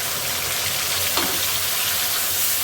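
Ground onion-ginger-garlic paste fries in oil with browned onions for a restaurant-style prawn curry, a steady close sizzle with a brief scraping stir midway, no talking.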